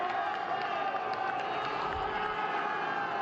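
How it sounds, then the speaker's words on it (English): A crowd reacts at an Abu Dhabi Grand Slam jiu-jitsu match in Rio de Janeiro, a steady wash of murmuring, shouting and scattered cheers from a large indoor audience with no clear peaks. "The crowd responding."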